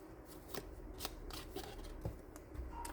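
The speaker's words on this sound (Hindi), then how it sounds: "शफल ज़्यादा कर रही हूँ मैं" Tarot cards are shuffled by hand, giving quiet, close papery riffles that repeat about every half second.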